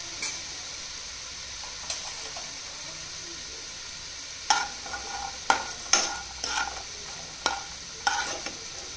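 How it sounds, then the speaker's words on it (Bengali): Pea-lentil dumplings (bori) frying in a pan give a quiet sizzle of oil, broken by several sharp scraping and stirring knocks in quick succession. "আমি এখানে কয়েকটা মটরের ডালের বড়িও একটু ভেজে নেব।"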